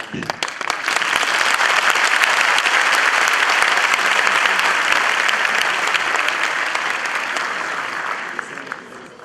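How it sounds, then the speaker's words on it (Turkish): A university audience at a career club event bursts into dense, loud applause that swells quickly, holds steady for several seconds as one thick roar of clapping, then fades gradually near the end. "Birazdan beni alkışlayacaklar ya"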